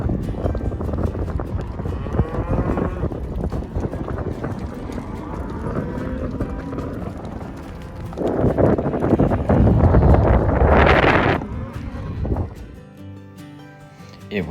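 Cattle low and moo repeatedly on a spring cattle drive in open country, several overlapping calls near and far, with wind buffeting the microphone and a louder surge of noise late in the clip.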